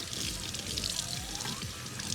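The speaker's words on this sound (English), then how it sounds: "I'm gonna put this under the running water." Running tap water pours and splashes while a guinea pig water bottle is rinsed under it, a steady close hiss and trickle with no talking.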